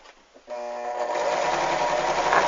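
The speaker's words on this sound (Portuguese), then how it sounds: "Regula a máquina para ponto 5, maior ponto, costura reta e vamos lá" A sewing machine set to its longest stitch runs a straight seam to gather fabric for a rag doll, starting after a half-second of quiet and then whirring steadily and loudly, close up, with no talk.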